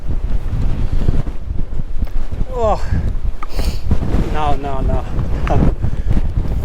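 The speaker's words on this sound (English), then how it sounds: "the wind is just howling up through this cutting here and over the top of the rocks" Strong wind howls over rocks and through a cutting on a blustery night at the crags, a constant loud buffeting roar on the microphone, and someone speaks briefly over it.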